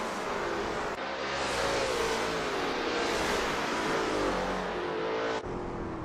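Lola T70 MkII race cars in a video game race at Bridgehampton, engines roaring continuously and loud with rising and falling revs as the pack fights through the first lap, no voices.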